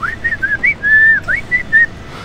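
A person whistles a light, wandering tune in quick bright phrases with one long held note, mimicking a London bus driver who whistles while driving.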